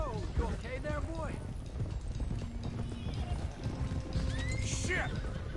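A horse whinnies loudly twice in Red Dead Redemption 2, with rising and falling neighs over steady hoofbeats and a busy game soundtrack.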